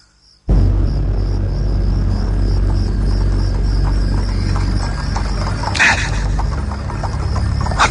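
Horse-drawn carriage sound effect heard at one in the morning: a steady, loud wash of hoof clopping and rolling noise begins abruptly after a brief pause, with a thin insect-like chirping layered over it throughout.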